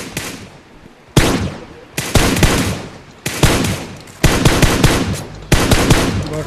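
Video game gunfire during a battle-royale match: loud, sharp bursts of automatic fire in several rapid volleys separated by short pauses, close and dominant over a quieter background.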